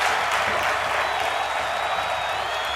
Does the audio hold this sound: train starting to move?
no